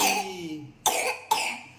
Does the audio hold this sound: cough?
yes